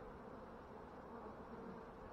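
Honeybees drone in a steady, continuous hum around an open hive during an inspection of struggling colonies, a close, even buzz with no speech.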